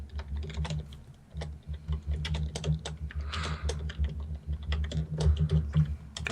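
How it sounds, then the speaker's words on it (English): Computer keyboard typing during a board meeting, rapid irregular key clicks close by over a low steady hum, with no talking. "somebody was typing it somewhere"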